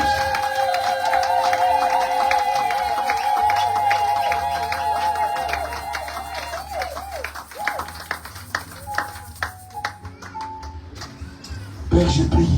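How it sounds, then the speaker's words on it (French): A congregation at a French-language prophetic church service applauds and cheers over music with sustained tones, the crowd noise turning to scattered claps and fading near the end. "Oh, il mérite nos acclamations."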